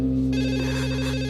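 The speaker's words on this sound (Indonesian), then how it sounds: "Angkat telepon itu." A telephone rings in a steady, sustained electronic trill heard close and alone, holding at an even loudness through the whole moment inside a home scene from an Indonesian TV drama.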